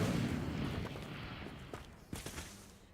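An Incendio fire spell goes off in Hogwarts Legacy with a rumbling burst of flame that fades, followed by a few fainter crackling pops.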